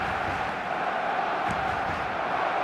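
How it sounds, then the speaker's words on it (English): Steady, dense crowd roar from a stadium in the eFootball football video game, continuous and fairly loud throughout with no speech on top, swelling slightly midway. "Well, there's a real sense that the momentum has shifted here, Peter, and the crowd are reacting to that now."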